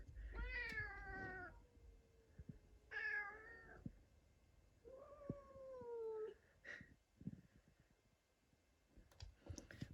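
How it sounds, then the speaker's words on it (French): A stray cat meowing outside, three drawn-out meows spaced a few seconds apart, fairly close and clear against quiet, followed by a few soft clicks and knocks. "On l'entend miauler lui aussi."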